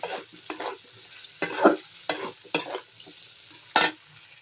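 Jackfruit curry being stirred and fried in a pan, with a series of sharp scraping strokes about half a second apart over a low steady sizzle, close and fairly loud, no voices.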